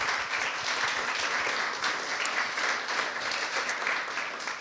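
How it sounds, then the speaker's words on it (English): Audience applause for a speaker at a conference, an even, sustained patter of many hands clapping with no talk over it, holding steady throughout. "Applause for Ola."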